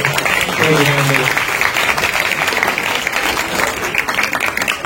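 A school audience at an SSLC crash course claps loudly and steadily to welcome a Kannada teacher, with a voice heard briefly at the start over the dense applause.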